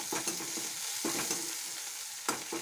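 Two chopped green chillies sautéing in a pan with tomato, a soft steady sizzle broken by a few scraping stirs of a spoon, close and alone with no voices.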